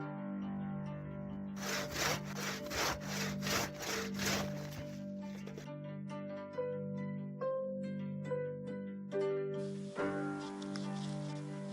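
A hand saw cuts up firewood outside an off-grid cabin, with a quick run of loud rasping back-and-forth strokes near the start, followed by slower scraping and knocks of wood over a steady low hum.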